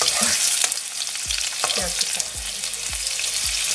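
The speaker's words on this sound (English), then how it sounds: "Just need the garlic to get a little bit golden brown, and it's getting there." Garlic frying in a pan over high heat, a steady close sizzle with the repeated scrape and clack of a spatula stirring through it; no one talks.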